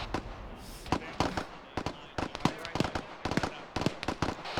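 A burst of sharp cracks and bangs from a grenade explosion in ArmA 3, a dense, loud, popping cluster that runs for several seconds, with faint radio-style voices underneath.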